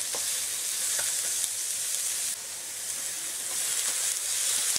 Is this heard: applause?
no